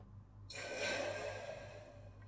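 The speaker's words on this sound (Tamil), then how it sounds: "இப்போ இதில் தேவையான அளவு நம்ம தண்ணி ஊற்றிக்கலாம்." A smooth, steady rush of water pouring into a pressure cooker starts abruptly and runs continuously, close by, tapering off near the end.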